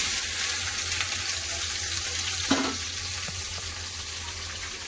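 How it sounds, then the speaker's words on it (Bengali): Okra sizzles in hot mustard oil in a kadai, a constant broad hiss of frying with a single soft knock partway through and no talking. "তেল গরম হয়ে গেছে এবার দিয়ে দেবো ঢেঁড়স"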